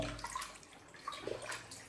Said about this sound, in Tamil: என்ன பைப்பில் வர தண்ணியில் கழுவுறீங்க